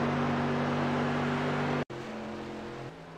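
SK Modified race car lapping Phoenix in iRacing, its engine a steady loud droning whine held close. The drone cuts out for an instant, then resumes at a slightly shifted pitch, with no voices.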